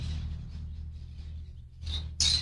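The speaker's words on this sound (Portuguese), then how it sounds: "Os periquitos aqui de casa estão querendo falar mais alto que eu, Edivaldo." Pet parakeets at home, a few faint high chirps over a low steady hum, with a louder burst of chirping at the end.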